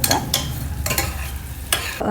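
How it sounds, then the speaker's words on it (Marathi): Cashew pieces fry in butter in a pan, giving a steady close sizzle with periodic bursts of stirring and scraping, and no talking. "एक टेबलस्पून भरून काजूच्या ज्या काही पाकळ्या आहेत त्या आपण थोड्याशा आपण त्याच्यामध्ये परतून घेऊया"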